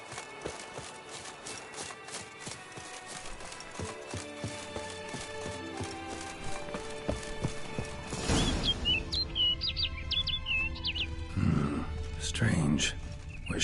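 Birds call in The Witcher 3 DLC2 game world: brief high chirps and twittering over a steady bed of game music and ambience, moderately faint.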